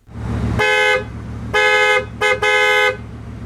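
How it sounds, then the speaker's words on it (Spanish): A Bugatti Veyron's horn honks four times, loud and close: a long blast, another long one, then a short toot and a final long honk, over a low engine idle. "¿Y cómo suena el claxon en el Bugatti Veyron?"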